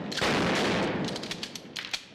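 Blank-firing guns going off on a film set for a 1987 action movie, a dense loud burst of rapid shots tailing into scattered sharp cracks and echoes.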